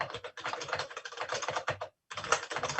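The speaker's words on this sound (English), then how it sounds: "Michelle, is that you typing" Keys on a computer keyboard clatter in quick, irregular bursts at moderate distance during an online committee meeting, pausing briefly before resuming.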